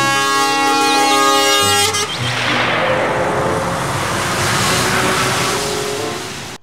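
A loud toy container truck horn blares with a harmonic tone for two seconds, then a rumbling engine-like roar continues steadily to the end.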